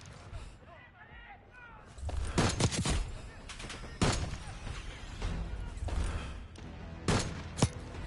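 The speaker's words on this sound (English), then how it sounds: "Exchanging fire!" Gunfire exchange in the Black Ops 6 video game campaign: bursts of shots and impacts crack out between 2 and 8 seconds, several sharp loud peaks standing out, with voices talking over the fighting.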